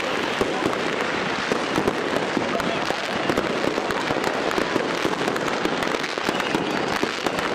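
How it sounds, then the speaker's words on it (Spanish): Christmas fireworks bursting over Lima, Peru, picked up from a drone in flight: a dense, continuous crackle of many simultaneous distant detonations with sharp pops scattered throughout, no clear pauses. "se percibe un aumento en la cantidad de fuegos artificiales, con varias detonaciones ocurriendo de forma simultánea"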